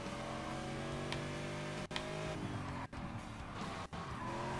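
Car in the Gear Club Unlimited 2 racing game revs hard with rising engine tones and tire squeal, broken by three brief gear-shift dips; loud and close with no talk.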